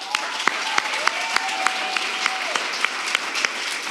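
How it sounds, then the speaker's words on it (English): An audience at an induction ceremony gives steady applause, with dense, even clapping and a few sharper individual claps standing out. "Let's give them a round of applause."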